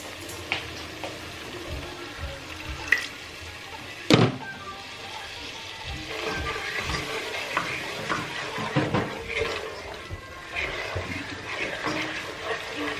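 Spices sizzle and fry in a pan for a Bengali fish curry as water is added, a crackling hiss with stirring scrapes and a couple of sharp clanks, steady and close, with no talk.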